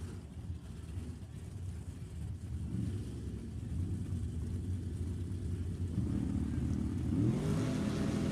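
Funny car drag racers idle and roll up at Sacramento Raceway, a steady low engine rumble that swells and revs near the end, with wind noise and muffled talk around.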